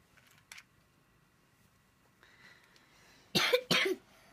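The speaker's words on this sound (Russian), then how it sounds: "какой у нас кашель. Хороший." A child coughs twice in quick, harsh bursts near the end, after a faint earlier cough and a quiet stretch with a low hum in the background.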